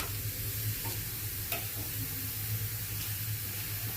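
Beetroot chapati cooks with oil on a hot griddle pan, giving a soft, steady sizzle with a faint low hum under it throughout, and no talking.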